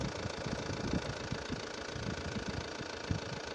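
A car engine idles steadily during a battery and alternator test, with a low, even rumble and a slight rattle running through the whole stretch. No one speaks.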